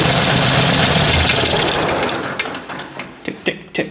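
Ford 800 tractor engine running with a tapping sound, a dense steady mechanical clatter that fades after two seconds into sharp irregular ticks and knocks close by.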